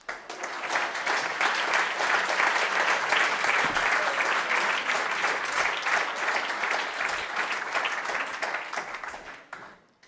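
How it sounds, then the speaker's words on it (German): A crowd at a German election-candidate roast show claps and applauds continuously for about ten seconds, dense and steady, then fades out at the end. "Ein Applaus"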